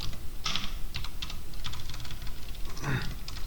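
Quick clattering keystrokes on a computer keyboard while code is typed, a steady run of close, light clicks with a few louder taps.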